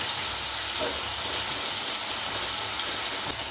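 Chicken masala with curry leaves and coriander sautéing in a pan, a steady broad hiss of frying that holds evenly throughout without pause, no voices present.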